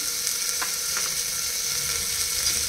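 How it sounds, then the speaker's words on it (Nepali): Finely chopped tomato and lightly crushed garlic frying in a pan for dal, a soft continuous sizzle with a couple of faint stirring clicks, close and unaccompanied by talk. "यसलाई पनि अलिअलि ब्राउन हुने गरी भुट्नु"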